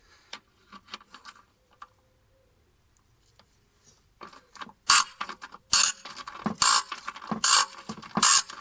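A gearless ratchet loosening bolts, first sparse soft clicks and ticks, then louder rapid bursts of metallic ratcheting and scraping close by, coming in several separate strokes.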